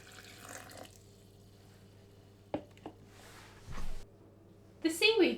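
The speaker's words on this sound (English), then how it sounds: "add half a litre of hot water and leave that overnight" Short bursts of hot water pouring into a jug of seaweed, separated by quiet pauses and a couple of soft knocks.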